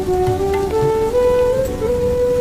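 Steady rain falls throughout a rainy village storytelling scene, a constant soft hiss under a sustained tonal drone, with no one talking.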